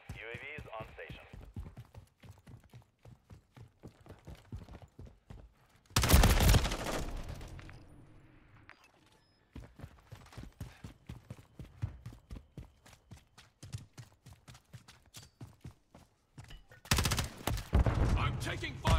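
Call of Duty gunfire, with rapid clattering bursts of automatic fire and a few louder blasts spread across the stretch, and game voices talking in between.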